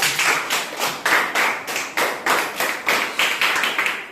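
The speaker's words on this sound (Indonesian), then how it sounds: "Kasih tepuk tangan untuk kelompok 1" A classroom claps for a student group in a steady rhythmic beat, about ten evenly spaced loud bursts of many hands together, close and alone.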